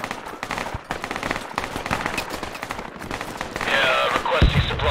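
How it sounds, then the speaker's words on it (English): Rapid bursts of gunfire in the Project Reality military shooter, loud and close with sharp repeated cracks, growing denser and heavier toward the end. "we're gonna just start shooting at any movement that we see to the west"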